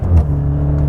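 A Maserati Ghibli Hybrid, a four-cylinder hybrid sedan in sport mode, revs hard with a loud, close exhaust swell that peaks early, then settles into a steady droning engine note.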